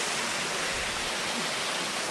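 A small jungle waterfall rushes steadily close by, a loud, unbroken wash of falling water with no voices or other sounds.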